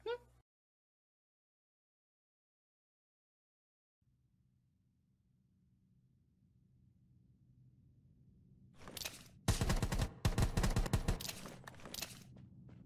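Gunfire in the battle-royale game Rules of Survival: after a near-silent stretch with a low rumble building, a dense burst of loud rapid shots cracks out, followed by a few more bursts and scattered shots.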